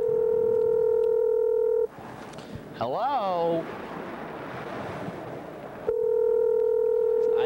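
A steady telephone dial tone hums loudly, cuts off when someone picks up and a voice speaks over a rustle, then returns unchanged near the end.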